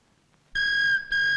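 A telephone rings at home with a loud, clear electronic tone in two bursts separated by a short gap, following near-silence.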